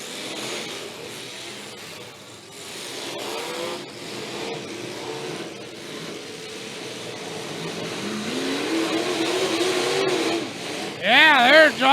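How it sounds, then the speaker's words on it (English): Old-school demolition derby car engine revving hard in a team derby arena, a loud, rising motor roar swelling toward the end, mixed with crowd and announcer talk over it. "Man, what a motor."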